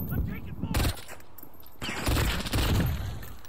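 Bursts of automatic gunfire from a Call of Duty: Modern Warfare multiplayer match, several loud volleys with short gaps and broken by scraping movement, heard under a player's speech.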